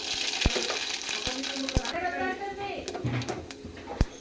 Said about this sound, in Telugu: ఆయిల్ వేడెక్కింది మెంతులు ఆవాలు